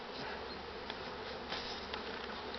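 Bees buzzing steadily during an inspection of a strong beehive colony, a dense continuous drone heard close up with no talk.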